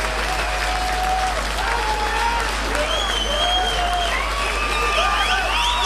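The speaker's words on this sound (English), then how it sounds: "Sorry, Farbroush, I'm cutting off your applause, but that gives you an idea of what it's like to be there." Audience at a demoscene party applauds in a dense, steady wash of clapping that holds for several seconds, mixed with shrill whistles and cheering voices from the crowd.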